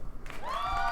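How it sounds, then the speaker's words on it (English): A short burst of applause and cheering plays as a stream donation alert, a crowd-like swell with a rising tone over it, brief and moderately loud. "Round of applause to C-Mad."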